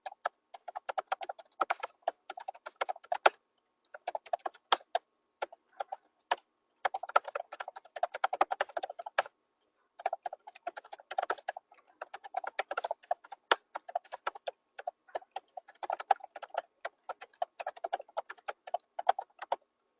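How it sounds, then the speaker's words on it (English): A computer keyboard typed on steadily for about twenty seconds: dense, fairly faint clicking in long runs broken by a few brief pauses, with no voices. "I'm just going to type what I said so the people cannot hear me."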